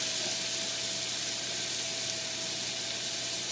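Steady, hissing sizzle of garlic frying in a hot pan, constant and close with no pauses or voices.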